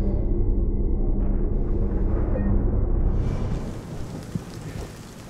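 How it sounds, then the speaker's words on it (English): Nighttime rain in the Silent Hill 2 Remake, a steady broadband hiss with low rumbling underneath, thinning slightly toward the end with a single soft knock near the close; no talking. "it sounds like it is raining"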